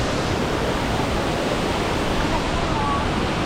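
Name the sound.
Ditumabo Mother Falls waterfall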